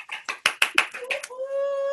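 Several sharp, separate claps from one or two people on an online team meeting, followed by a sustained rising tone like a whistle or a cheering voice.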